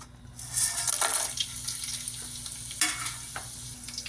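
Whole spices for prawn biryani (cinnamon, cardamom, cloves, star anise, bay leaves) sizzle as they drop into well-heated oil, a steady close fry with bursts of crackle and a few stirring scrapes.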